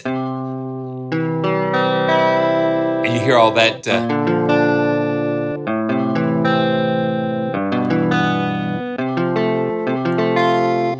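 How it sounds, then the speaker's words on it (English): A looped electric guitar phrase from a tape loop, with a warbly, effected tone, repeats steadily, loud and close, with a brief burst of noise and a few spoken words early on. "Now this is a guitar, but it's a tape loop."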